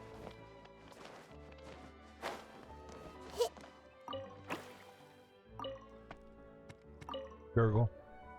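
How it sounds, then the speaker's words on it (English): Gurgling liquid from Genshin Impact bubbles and drips in scattered wet plops and squishes over a soft tonal backdrop, ending in a louder splashy burst. "Gurgle."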